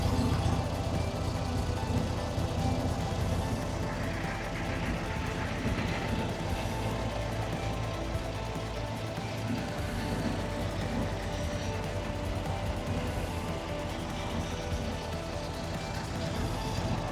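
A 1967 Volkswagen Beetle barn find, running after decades of storage, idles with a steady low rumble heard close-up, while a person speaks over it.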